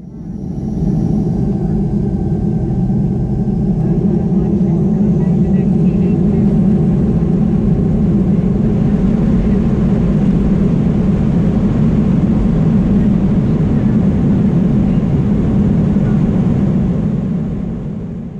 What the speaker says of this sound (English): you can actually hear the engines making that characteristic crackling sound